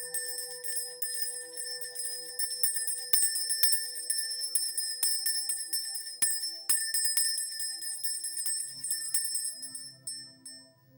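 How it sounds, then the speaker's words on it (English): A small bell rings repeatedly, bright and shimmering with long-ringing high tones that overlap and slowly fade, struck several times at close range in a quiet room. "I'm going to ring this bell."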